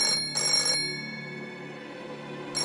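A telephone ringing in a wartime spy film, a sharp electric bell burst followed by a sustained tone that fades, then the bell starting again, loud and close with no talk.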